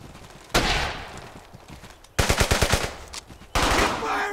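Gunfire in Brothers in Arms: Hell's Highway, a World War II shooter: loud, close bursts separated by lulls, including one rapid rattling volley of automatic fire in the middle.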